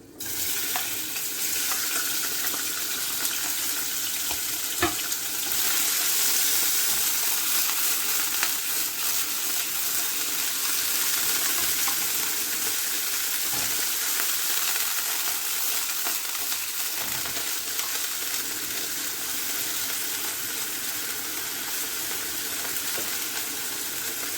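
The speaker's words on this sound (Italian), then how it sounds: "Aggiungo il pesce spada" Swordfish sizzles steadily in a hot pan for a Sicilian pasta with pumpkin and mint, a continuous loud frying hiss with occasional pops and stirring scrapes and no talk.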